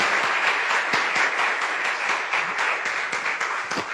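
A church congregation applauds steadily, a dense, loud wash of many hands clapping together, sustained evenly without pause and with no voices rising above it.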